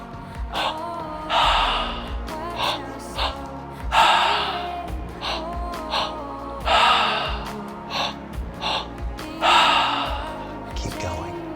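Deep rhythmic breathing during a guided breathwork session, about four long loud inhales and exhales spaced a few seconds apart, close and breathy with no talk.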